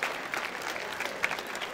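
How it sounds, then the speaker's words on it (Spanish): Audience at a rap battle applauding: a dense patter of many hands clapping throughout, steady and moderately loud, with crowd noise mixed in. "¡Aplausos para estos dos colosos!"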